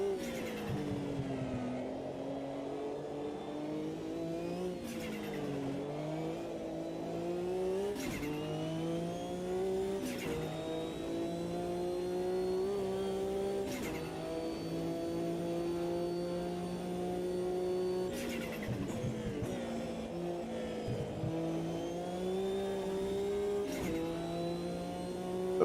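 A Porsche race car is driven in a video game, its engine whining steadily through repeated shifts with dips and climbs in pitch, plus occasional sharp clicks and bumps, heard fairly quietly and without talk.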